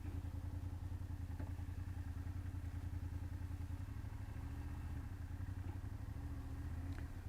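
A BMW F800GS motorcycle engine runs at a low, steady, throbbing idle-like rumble during slow-speed U-turns, close and constant with slight clatter.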